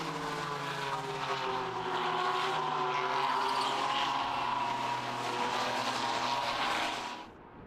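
Race cars run on a wet Barcelona circuit during a winter series round, a steady droning engine roar with tyre hiss that holds for several seconds before easing off at the end.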